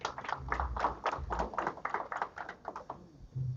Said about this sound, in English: I think that was a semblance of an applause for the CEO